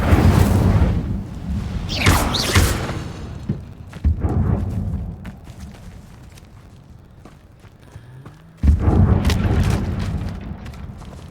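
An Incendio fire spell cast in a Harry Potter video game erupts in a loud whooshing burst with a rumbling boom, followed by quieter mechanical creaks, then a second strong fiery blast near the end.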